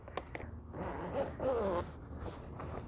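A zipper sewn into a 2020 Toyota Corolla seat cover seam is drawn open in two short pulls with a rasping, ratcheting sound, up close against faint background noise.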